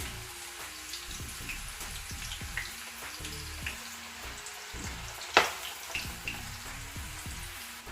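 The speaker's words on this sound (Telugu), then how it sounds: "వేసిన తర్వాత వెంటనే కలపకుండా 1 నిమిషం పాటు వేయించుకొని ఇంకో సైడ్ వేయించుకోవాలి" Bitter gourd slices for chips frying in hot oil in a pan, a steady bubbling sizzle throughout with a few sharper pops and crackles, close and alone without any voices.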